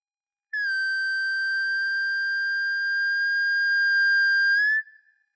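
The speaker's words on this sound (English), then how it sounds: "With enough feedback, the mixing board will produce a tone." No-input mixing board feedback rings out as one pure, steady resonant tone with bright overtones, holding loud and unwavering for about four seconds before cutting off abruptly, with no voices.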